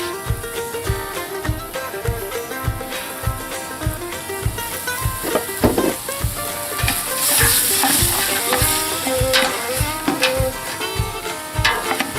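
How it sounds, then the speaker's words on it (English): Onions fry in a pan for a chicken gnocchi soup, a loud continuous sizzle joined by regular knocks and scrapes of stirring, with faint tonal sound underneath. "So we'll let those fry up a little bit."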